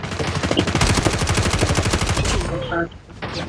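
Rapid automatic gunfire in the mobile shooter game Call of Duty Mobile, a loud, close, sustained burst of evenly spaced shots lasting about two and a half seconds, then stopping, followed by brief quieter game sounds.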